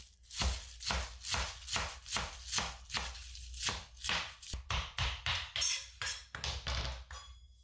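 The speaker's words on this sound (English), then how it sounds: "So the first thing I'll do is give it kind of a rough chop" A knife rough-chops a pile of fresh basil on a cutting board, about a dozen firm, rhythmic thunks in steady succession, each blade strike close and distinct, speeding slightly toward the end.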